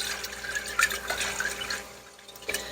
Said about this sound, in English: let me give that a good rinse